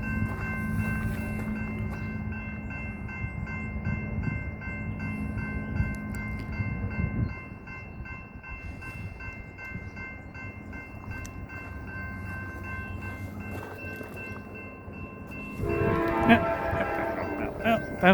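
An Amtrak Cascades passenger train rolls southbound through Rockypoint, a sustained rumble with rail clatter, then a louder burst near the end, with a steady bell tone heard throughout.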